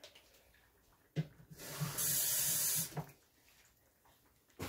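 A kitchen tap runs for about a second to add water to Jamaican cornmeal porridge, a steady bright hiss framed by soft clunks of the pot and faucet, heard alone and fairly quiet.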